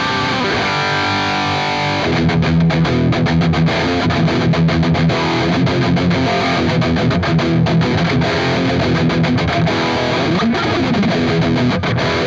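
Heavily distorted electric guitar played through a Quad Cortex with the doubler effect switched off, a sustained chord opening into chugging rhythm riffs, loud and dense with no voices.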